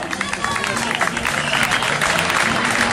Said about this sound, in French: Voilà, l'équipe avec Jérôme Temps, on va les applaudir bien fort.